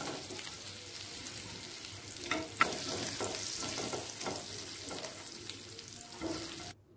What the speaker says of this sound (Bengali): ঘিয়ের মধ্যে এবার একে একে দিয়ে নেব, হালকা করে ভেজে নেব।